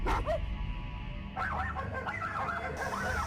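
Dogs outside give a few yipping barks, then a longer run of barking follows, slightly distant and mixed with a faint background hum.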